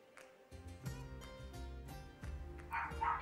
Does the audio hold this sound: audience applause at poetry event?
no